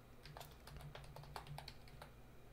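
Quick, light clicks from typing on a computer keyboard, an uneven run of keystrokes close by and fairly quiet over faint background hum.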